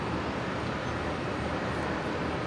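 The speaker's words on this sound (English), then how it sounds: "The Cessna citation." Cessna Citation jet landing at Brisbane Airport, a steady broadband engine roar that stays loud and constant throughout, with no voices.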